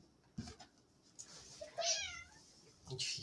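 A cat meowing indoors, a couple of short close mews followed by a longer drawn-out meow, with faint background thumps between calls.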